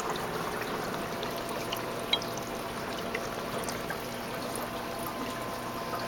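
Water flows steadily through a hose while equipment is being cleaned, a constant broadband rushing and trickling hiss with one small clink partway through, and no talking.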